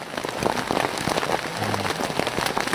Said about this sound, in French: Le problème de la pluie c'est que ça mouille quoi.